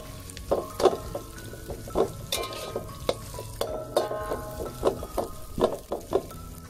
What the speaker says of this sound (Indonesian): Jadi ini bilis, kalau saya suka tumis sampai dia garing sedikit.